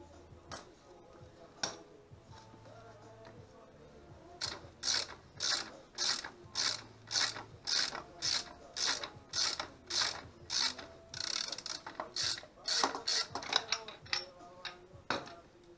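A hand ratchet working on the accessory belt tensioner of an Opel Frontera Sport 2.5 TDS engine, a few scattered clicks and then a long, regular train of loud ratcheting strokes, close up.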